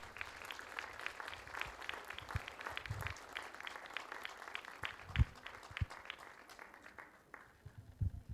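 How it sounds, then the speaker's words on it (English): Audience applause at the opening ceremony of a community festival, a steady patter of many hands clapping through most of the clip before thinning out toward the end, heard at moderate distance in a hall. "Give him a round of applause."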